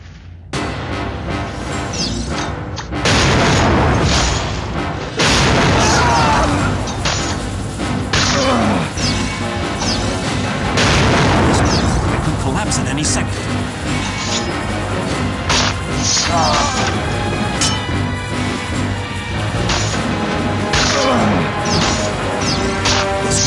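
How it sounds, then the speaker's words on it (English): Tar barrels blowing up under gunfire in Assassin's Creed Altair's Chronicles, with repeated loud crashing blasts and debris smashes over a constant game background, several distinct bursts spread through the stretch. "Fire at those tar barrels, they'll explode."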